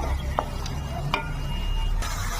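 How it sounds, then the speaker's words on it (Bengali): A spoonful of garlic paste sautés with ginger and spices in a pan for a duck egg curry, giving a steady close sizzle broken by a few sharp scraping taps of a stirring spoon, with no voices. "রসুন বাটা দিচ্ছি 1 চামচ, কষিয়ে নেবো।"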